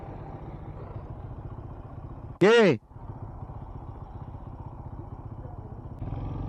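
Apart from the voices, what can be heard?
motorcycle stopping and idling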